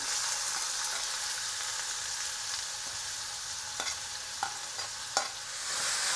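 Steady sizzling of onion frying in hot oil with cumin seeds, with a few sharp clinks of a spoon stirring the pan.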